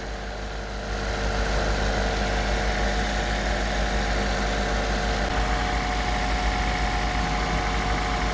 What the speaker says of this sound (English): motor is idling, so it's doing the flush